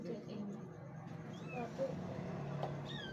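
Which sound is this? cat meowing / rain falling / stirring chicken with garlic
cat meowing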